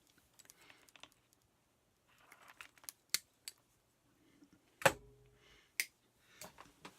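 Wire ends snipped during a repair of a cut MacBook power supply cable, heard as a few sharp, quiet clicks spaced apart, with faint handling rustle between them.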